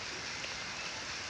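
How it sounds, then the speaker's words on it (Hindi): Steady rain falls throughout, a continuous dense hiss that stays even and unbroken, with no voices over it. "बारिश और हो रही"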